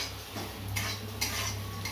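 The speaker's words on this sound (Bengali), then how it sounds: "উচ্ছে ভাজা হচ্ছে" Bitter gourd fries in a kitchen pan while a utensil stirs it, producing a few distinct scraping strokes over a steady low background hiss, with no voices.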